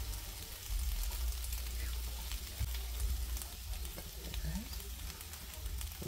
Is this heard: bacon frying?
yes